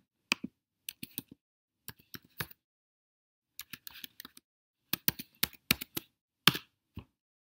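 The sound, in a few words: typing on a computer keyboard to log in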